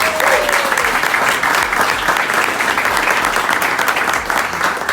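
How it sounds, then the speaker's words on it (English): An audience at an AIA Orlando housing design charrette applauds the teams with loud, sustained, dense clapping from many hands, with a faint voice at the start. "We can give them a round of applause."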